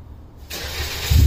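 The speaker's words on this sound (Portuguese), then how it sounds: "A gente vai ligar o carro aqui e mostrar o... barulho." A lowered Toyota Corolla's engine cranks and fires up with an open exhaust fitted with a diffuser, settling into a loud, rough rumble up close.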